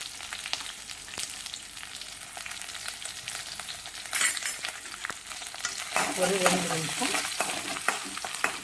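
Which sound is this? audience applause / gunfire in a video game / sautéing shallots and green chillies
sautéing shallots and green chillies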